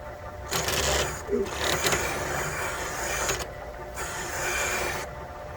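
A radius cutter works the valve pockets of a Ford 460 DOVE cylinder head, producing a faint, whirring, grinding buzz in repeated bursts separated by brief pauses.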